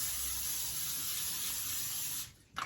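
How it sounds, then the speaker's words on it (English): A steady aerosol hiss of olive oil spraying onto a pan continuously for a couple of seconds, then cuts off, followed by a brief clatter. "So I'm spraying the pan with olive oil."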